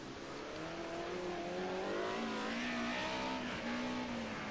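A Mercedes 190E Group A touring race car at Oschersleben pulls out onto the circuit, its engine droning steadily and rising in pitch as it accelerates, loud and close throughout with no voices.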